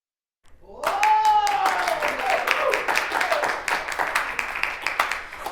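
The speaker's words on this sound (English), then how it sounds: "You didn't really need to clap for that." A studio audience breaks into clapping after a brief silence, the claps swelling quickly and continuing steadily, while a voice speaks over them at the start.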